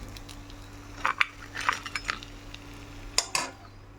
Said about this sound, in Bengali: আমি একটা প্লেটে নিয়ে নেব।